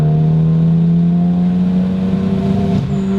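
Ford Focus ST engine droning loudly under acceleration, a steady, deep, close roar that holds its pitch for a few seconds.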